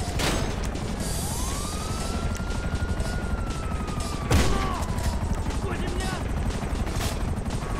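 Game gunfire in a chaotic shooter, with a loud sharp crack near the middle over dense mechanical clatter and a long whining tone, while a voice talks throughout.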